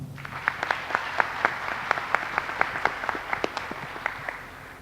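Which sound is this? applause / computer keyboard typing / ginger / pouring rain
applause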